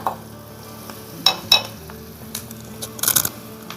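Soft sizzling of onion frying in a pan on a wood-fired stove, broken by a few sharp scraping and clinking strokes of a utensil against the metal.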